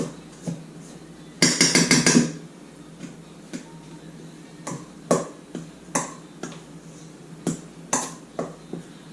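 Mushroom stuffing mixed together in a bowl, a dense clatter of spoon against bowl early on, then separate sharp clinks and taps spaced every second or so, close and fairly loud with no talk.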